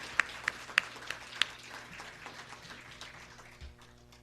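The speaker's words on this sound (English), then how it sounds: "How about one more round of applause for all our honorees here tonight?" Applause for honorees at a sportswomen of the year awards event, faint and sparse with a few sharp individual claps early on, fading into quiet room noise.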